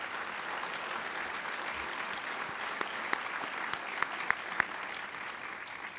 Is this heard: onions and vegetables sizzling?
no